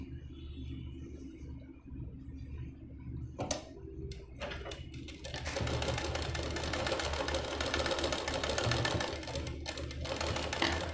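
Sewing machine stitching a boat neck, princess cut blouse, a steady rapid running hum that starts around three seconds and continues to the end, with brief pauses and loud throughout.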